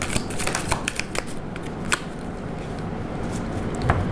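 A tarot deck gets shuffled close by, a continuous dense riffling and sliding of cards with a few sharper flicks and no voices.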